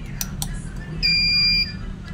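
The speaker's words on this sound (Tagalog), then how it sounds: "Bali tutunog yan ng buzzer." A sharp, high-pitched electronic buzzer on a two-hopper coin changer machine sounds once for about half a second, steady and piercing, amid faint background clatter.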